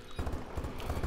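The Obsidian Steed horse mount in a video game trots with quick, rhythmic hoofbeats, a steady run of clip-clop strikes close by and at moderate loudness, with no speech over it.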